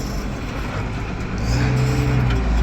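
A tractor engine revs up after four-wheel drive is engaged, a steady near rumble that grows louder and deeper about halfway through, with no talking.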